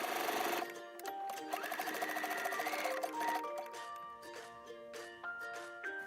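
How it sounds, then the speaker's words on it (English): A sewing machine zigzag-stitches two overlapping elastic ends together for a skirt waistband, with quick rhythmic mechanical chattering in bursts separated by short pauses and a clicking, tinkly texture, heard close and alone. "overlap the 2 loose elastic ends and zigzag them together"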